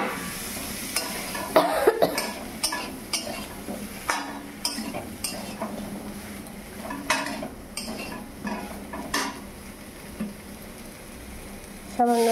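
Ingredients for lal data chorchori, a Bengali red amaranth stem dish, sizzle in a pan while a spoon repeatedly scrapes and clanks against it in an uneven rhythm, close and clear over a steady frying hiss.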